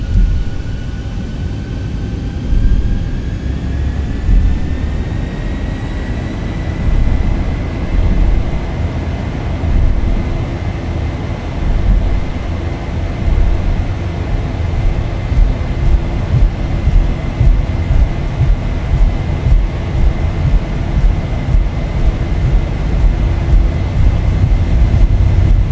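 Aircraft engines hold a steady, loud drone through a takeoff roll in the X-Plane 11 flight simulator, a rising tone whining above the continuous rumble, with no talk over it.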